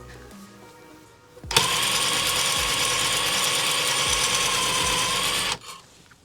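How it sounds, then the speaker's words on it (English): An electric piston ring gap grinder files a piston ring for an LS engine, a loud steady whirring grind starting abruptly, running about four seconds and stopping, close up with no talk. "we're on electric version number 2 ring grinder"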